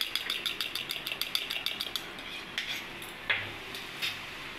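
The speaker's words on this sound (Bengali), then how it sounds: "টক দইটা ফেটে রাখবো। কাঁটা চামচে ফেটে নেবো।" Sour yogurt is whisked with a fork in a bowl, giving a quick, regular series of light metallic clinks that slow and spread out toward the end, close and clear with no talk.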